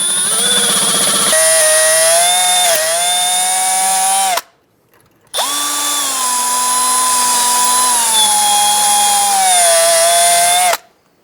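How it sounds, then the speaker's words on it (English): A power drill grinds a bit into a stuck steel cotter pin in the ball joint stud of a 2007-2011 Toyota Camry front suspension, a loud high-pitched whine in two long bursts with a brief pause between. "I'm going to use a drill bit and just drill it out"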